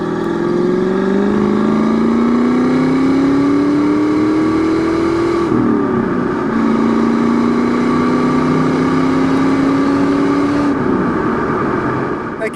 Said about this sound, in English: Downshift to second, we'll roll into it on the interstate here.